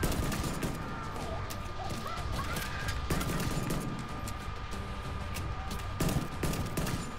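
Pistol fire in The Division 2 comes as a series of sharp shots at irregular intervals over a busy background of game noise, with no talk.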